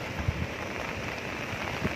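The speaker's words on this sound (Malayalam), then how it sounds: "മഴ കുറഞ്ഞു" Rain falling on an umbrella during a rainy ride, a soft, even hiss of drops with a few faint taps, fairly quiet and steady throughout.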